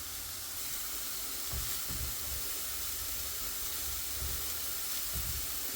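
A cheap budget steak fries in a pan with a constant, fairly quiet hiss and sizzle, broken by a few soft low thumps, and no voices.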